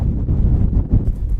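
Outdoor wind buffets the microphone in loud, continuous low rumbling gusts, close and blustery, with no voices.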